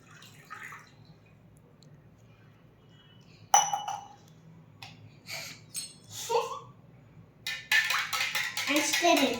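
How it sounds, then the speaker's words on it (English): A spoon stirs homemade lemonade in a glass, starting with a sharp clink and then giving quick, close metallic tinkles and rattles that build toward the end, while a voice talks quietly in between. "And stir it."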